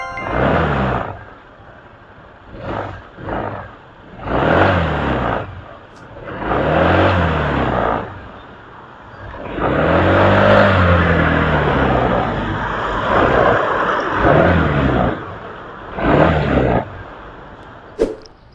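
Skygo Bolt 150 scooter engine revving repeatedly while stationary before a test ride, short bursts of rising and falling pitch separated by idle, then a longer sustained rev in the middle, close and loud.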